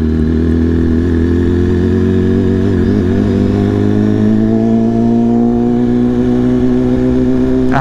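A BMW S1000RR sport bike cruises through Manhattan traffic, its engine droning steadily with a low harmonic hum that rises gradually as it accelerates, loud and close throughout with city noise underneath.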